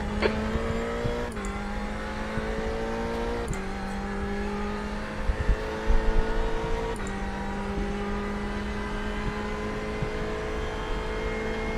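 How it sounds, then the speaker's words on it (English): GT race cars lap Monza in a multiclass racing video game. A sustained engine drone climbs in pitch and drops at each gear shift every few seconds, with tire noise underneath. "There's a faster class car approaching."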